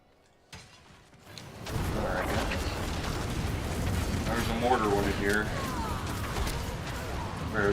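Mortar attack in Diablo IV, a sudden heavy crashing blast followed by sustained rumbling, crackling explosion noise, with someone talking over the game action.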